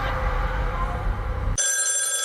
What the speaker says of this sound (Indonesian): ada telepon dari Esther